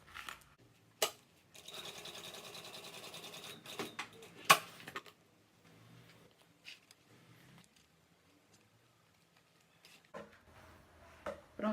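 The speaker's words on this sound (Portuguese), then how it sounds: "Eu vou refazer a costura que eu tirei" A sewing machine stitches a seam on a fabric vaccination card cover, running in steady bursts of close mechanical whirring with short pauses and small clicks between runs.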